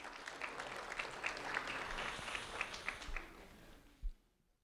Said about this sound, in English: a round of applause for Carter Seluk